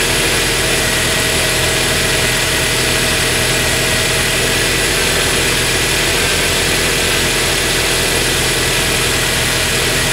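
A truck engine idles steadily during an alternator and battery charging test, a loud, continuous mechanical hum and rattle that holds level throughout with no voices.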